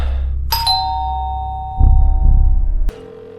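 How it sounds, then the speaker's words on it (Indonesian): A doorbell rings in a film scene, a clear two-tone ding-dong chime with a ringing tail, followed by a louder low rumble of scene sound before it cuts off. "Tak berapa lama, bel pintu berbunyi"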